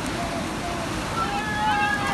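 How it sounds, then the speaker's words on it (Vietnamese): Sea waves wash onto a beach at night in a continuous broad rush, with wind buffeting the microphone and voices mixed into the surf. "Sóng đang giỡn với chúng ta đó các bạn."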